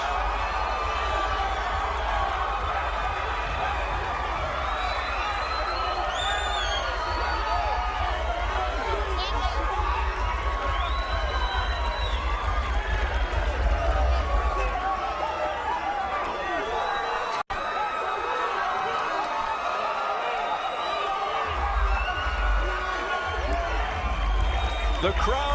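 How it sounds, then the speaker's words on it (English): A boxing arena crowd roars in celebration of a new WBA lightweight champion, a dense, steady wall of cheering and noise that holds loud throughout and dips briefly only near the end. "The crowd celebrates, the Rios corner celebrates"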